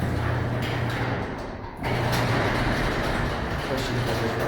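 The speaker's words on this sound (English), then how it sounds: "opens the garage door." A home garage door opener, started by a wall button, runs with a steady mechanical rumble and drone as the garage door lifts, with a brief dip partway before the grinding hum resumes.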